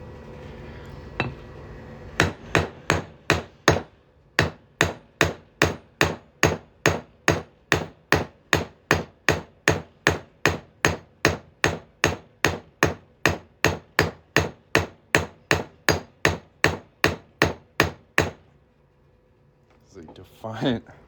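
A silver coin ring is struck with a hammer in about thirty sharp, evenly spaced metallic blows. They are loud and close, and a brief pause and a faint voice follow at the end.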